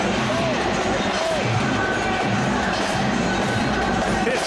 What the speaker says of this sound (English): This crowd has turned this into a party